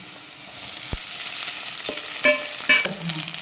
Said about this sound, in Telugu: అల్లం వెల్లుల్లి పేస్ట్ వేసాం కాబట్టి ఖచ్చితంగా అడుగుంటుంది సో కదుపుకుంటూ ఉండాలి